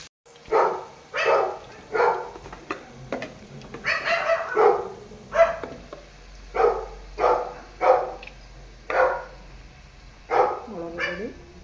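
A dog barks repeatedly in a steady series of sharp, fairly loud barks, close by, with a low hum underneath and no talking.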